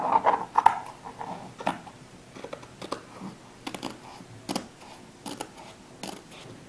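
Scissors snip through fusible web along drawn lines for a sunflower placemat, a series of soft, close, irregular cutting clicks with short pauses between them.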